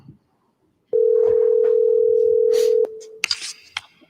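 A single steady telephone ringback tone sounds for about two seconds after brief quiet, followed by faint rustling and clicks.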